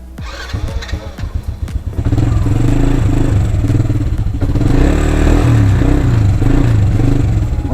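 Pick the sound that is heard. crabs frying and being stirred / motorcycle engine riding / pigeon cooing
motorcycle engine riding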